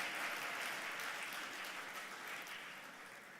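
A church congregation at a Revival Palace service claps together, a dense, even wash of applause that stays fairly faint and steady throughout.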